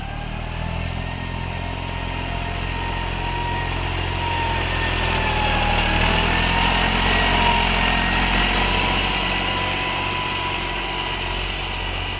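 A steady, loud engine drone runs throughout, a tractor chugging at an even pace with a slight swell midway and no voices.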